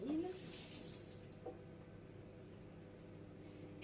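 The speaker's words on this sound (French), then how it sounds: "Je vais rincer mes mimines." Tap water runs steadily into a kitchen sink as hands are rinsed between cooking steps, a soft continuous splashing with a few faint clinks and no clear talk.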